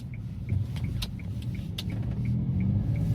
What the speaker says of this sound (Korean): 3기통의 CC가 1000cc 미만이기 때문에 출력을 요하는 구간, 들어서면 엔진이 웅 하고 소리를 내지만